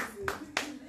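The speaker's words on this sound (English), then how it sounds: "Clap for Jesus." Two sharp hand claps from a congregation at a church healing service, a short pause between them, heard over a steady low hum.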